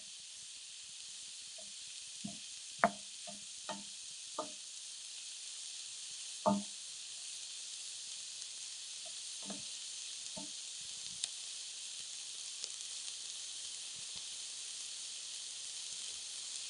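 Shakshuka's tomato base with chili sizzles softly in a skillet: a faint, even hiss runs throughout, while a spoon scrapes and knocks against the pan in scattered, sharper clicks.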